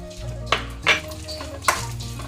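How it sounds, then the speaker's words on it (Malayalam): Pieces frying in ghee in a pan, with a low steady hum and three sharp stirring clatters of a spoon against the pan, no talking. "ഇത് ഒന്ന് നല്ലോണം കളർ മാറണവരൊന്ന് വറുത്തെടുക്കാം."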